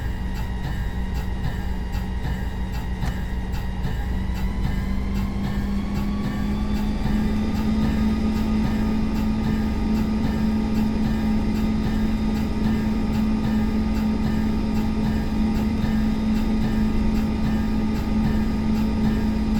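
A simulated F45 diesel locomotive in Train Sim World runs on a Cascadia line at about 35 mph, a steady loud drone with a strong low hum and an engine tone that climbs and settles after a few seconds, continuous throughout with no talk.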